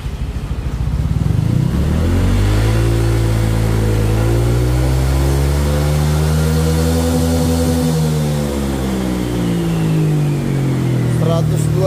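A Honda Vario 125 scooter engine with an aftermarket exhaust revs steadily, its pitch rising and then easing back in a long sweep, loud and close with no other sound over it.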